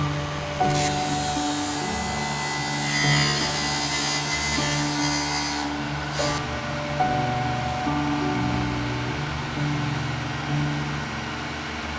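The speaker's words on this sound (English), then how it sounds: "sanding this whole assembly as one piece was a great way to ensure the joint was seamless" A power sander works over a wooden stretcher and leg assembly sanded as one piece, a steady loud whirring hum running throughout with a brief change in pitch about halfway.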